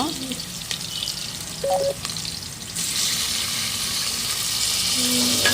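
Chopped tomato frying in a pan for masala vegetable saagu, a close sizzle that turns louder and more hissing partway through, with a few light clinks of utensils and no speech.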